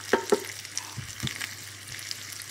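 Sage leaves fry in butter in a pan for a butternut squash risotto with bacon, giving a faint, steady sizzle with a few soft clinks and stirring touches near the start and middle.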